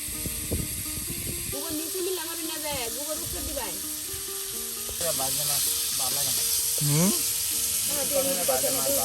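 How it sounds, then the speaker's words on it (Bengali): Pangas fish frying in a pan during village breakfast cooking produces a steady hissing sizzle that grows louder midway, under talking voices. "এই যে দেখুন মাছগুলো একদম সুন্দর করে আপনার এই যে ভেজে নেওয়া হচ্ছে"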